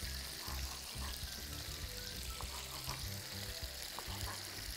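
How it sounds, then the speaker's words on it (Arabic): Chicken strips for Mexican-style chicken frying in a very hot pan, giving a continuous crackling sizzle at moderate level with occasional pan and utensil knocks. "طبعا لازم نحط الدجاج على مقلاة تكون سخنة سخنة جدا"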